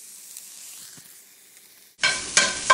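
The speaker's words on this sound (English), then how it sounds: "I'm going to get those all sauteed here" Bacon, crabmeat and mushrooms sauteing in a pan: quiet hiss at first, then a sudden bright sizzle of frying with stirring bursts near the close.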